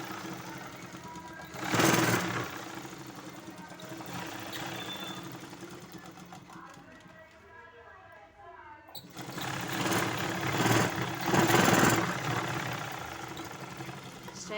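A sewing machine stitching thread piping onto a straight piece of cloth whirs in steady runs under a woman's speech, pausing briefly mid-way before starting up again close by.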